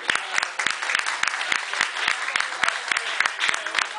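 Audience applause at a live music performance in Cafe Piu Piu, with sharp rhythmic claps in a steady beat over a bed of crowd clapping, close and fairly loud.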